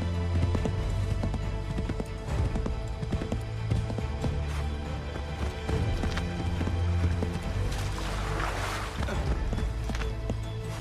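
Horse galloping in the Assassin's Creed 3 video game on Xbox 360, with steady rapid clip-clop hoofbeats running continuously through a dense, busy game soundscape of music and effects.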